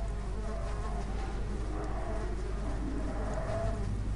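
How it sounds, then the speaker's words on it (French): In the horror video game Amnesia, flies buzz faintly and continuously against a low, tense ambient drone. "Oh, il y a des mouches..."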